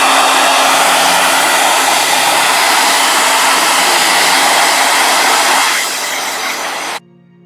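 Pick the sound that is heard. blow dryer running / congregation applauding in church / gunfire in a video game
blow dryer running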